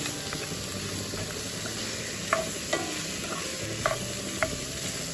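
Onions and wieners fry in a cast iron skillet on a low barbecue, giving a steady soft sizzle with a few sharp scrapes and clinks as they are stirred.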